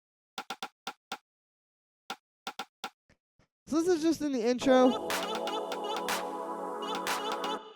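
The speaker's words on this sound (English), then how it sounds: "So the next layer that we have here is this little rim shot," A short rim shot from a gritty lo-fi house beat taps out a sparse, dry clicking rhythm alone, then a speaking voice and a dense, loud layered mix take over.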